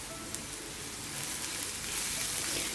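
Spiced potato masala for bonda sautéing in a pan, a steady close sizzle and crackle of frying that grows slightly louder, with no talk over it.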